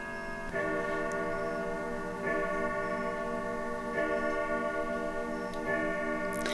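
A clock ticks steadily in a living room, its regular metallic ticks evenly spaced about every second and a half, close and clear with a ringing resonance and no talk.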